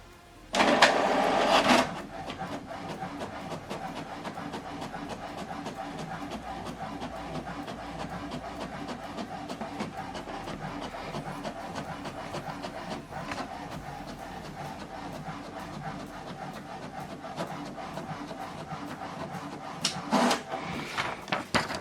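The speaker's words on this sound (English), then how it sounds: "Let's check it out by printing our sample document." An HP Deskjet 4120e inkjet printer prints a sample page: a loud paper-feed whir at the start, then a long steady mechanical hum of the print carriage, and another feed burst near the end, close and without talk.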